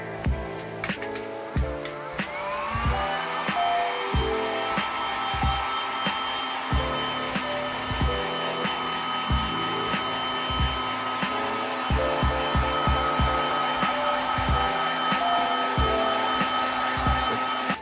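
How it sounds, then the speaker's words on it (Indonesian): A heat gun blows a steady, airy hum while drying screen-printing ink on a t-shirt, continuous and close, with soft repeated knocks and shuffling handling sounds throughout. "Setelah itu kita keringkan cat sablonnya menggunakan hot gun."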